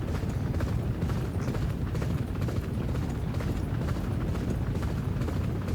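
Galloping horse hooves in the Champion Jockey horse racing video game, a steady dense drumming of hoofbeats running throughout at a constant, fairly loud level with no talking.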